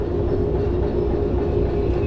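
A train rolls along the rails in the railway simulator game Derail Valley, giving a steady, continuous rumble and track noise that runs on loudly throughout without any talk.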